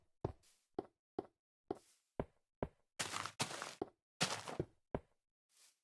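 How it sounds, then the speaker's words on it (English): Block-breaking sound effects in a C++ Minecraft clone game: a series of short, sharp knocking thunks, about a dozen spaced hits with some longer crunching bursts in the middle, with no talking over them. "we can destroy blocks."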